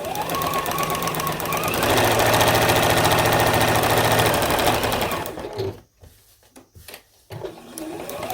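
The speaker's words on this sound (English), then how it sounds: "what I'm going to do is run another stitch right along this edge here of this crocheted trim" A sewing machine hums loudly up close as it runs a line of stitching along a crocheted trim on a vintage pillowcase quilt. It stops after about five seconds, leaving faint handling noises.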